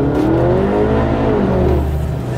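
A motorcycle accelerates hard on a road during a chase, a loud, close engine roar that climbs steadily in pitch and holds strong throughout.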